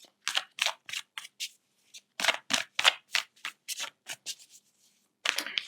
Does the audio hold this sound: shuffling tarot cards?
yes